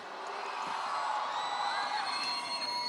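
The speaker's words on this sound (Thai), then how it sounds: "ผมขอเสียงกรี๊ดให้กับวันแม่แห่งชาติปีนี้หน่อยได้ไหมครับ ดังๆเลย" A large crowd cheers and screams continuously, a dense wall of shrill voices and whoops filling the space at steady loudness for the whole stretch.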